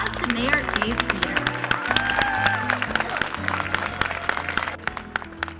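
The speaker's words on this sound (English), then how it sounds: "Give a round of applause to Mayor Dave Bieter." An outdoor crowd at a climate change concert in Boise, Idaho applauds the mayor with steady clapping and some cheering, fairly distant and sustained, while tonal music or feedback lingers underneath.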